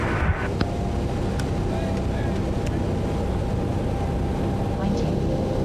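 Airbus A319 engine number 2 spooling up in a flight simulator, a steady broadband jet roar with low rumble and a rising whine that holds constant throughout, with some speech present.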